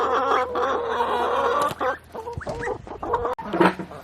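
Ducks on a homestead quack and cluck in a lively, close flock, with overlapping calls and shuffling that rise and fall across the moment, no voices over them.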